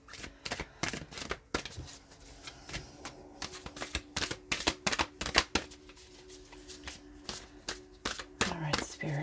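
Tarot cards being shuffled and handled up close: quick rapid riffles and irregular snaps and taps, with faint talking in the background.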